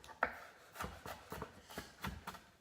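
A knife chops a marinade ingredient finely on a board for a sesame beef stir-fry, making a string of soft, evenly spaced taps close by with no talk.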